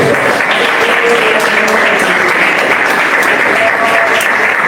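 A church congregation claps in praise, a steady, full wash of many hands applauding continuously and close by.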